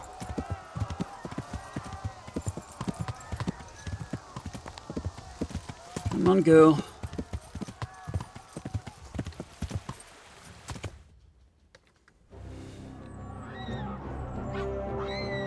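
Rhythmic hoofbeats clop steadily as a horse moves along in the video game Kingdom Come: Deliverance, with a short burst of snorting midway, a brief silence, then ambient sound; a voice speaks briefly.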